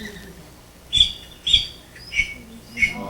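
A blue jay gives four loud, harsh squawking calls about half a second apart, clear and fairly close, over a quiet background with no talking.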